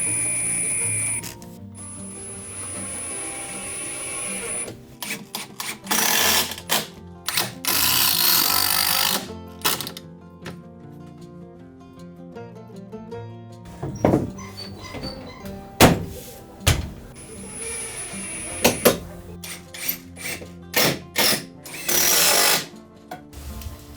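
Power tools work solid wood window extensions during a carpentry renovation, with intermittent loud whirring runs, knocks and mechanical clatter, close by, separated by short pauses.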